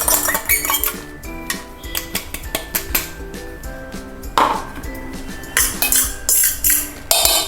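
Ground oats are scraped and tipped into a bowl, with repeated clinks and knocks of a spoon against metal and ceramic dishes, close and busy, in irregular bursts.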